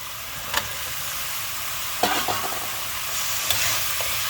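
Pork and mixed vegetables, including broccoli, cauliflower, mushroom and carrot, stir-frying in a pan: a continuous sizzle broken by a few sharp scrapes and clatters of stirring, close and alone.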